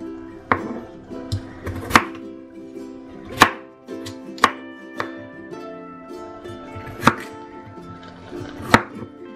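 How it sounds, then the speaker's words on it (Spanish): Potatoes being cut into fairly large pieces with a knife on a board, a dozen or so sharp, irregular chops spaced apart with quiet pauses, close and fairly loud, no talking. "Aquí tengo las 4 papas y las voy a cortar en pedazos no muy chiquitos"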